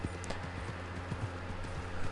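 Horse hooves from the video game Red Dead Redemption 2 clip-clop at a steady trot, close and continuous over a dense bed of ambient game noise.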